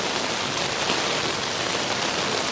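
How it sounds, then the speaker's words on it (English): Rain falling on the streets of Strasbourg, a soft, even hiss of drops on wet surfaces that continues without pause through the short stretch, with no voices. "Here's the Strasbourg rainy experience."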